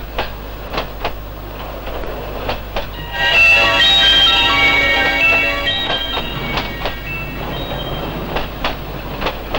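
From inside a passenger train compartment on a run to Chittagong, a steady rolling rumble carries repeated clicks of the wheels over the rails, with a louder tonal squeal swelling briefly in the middle.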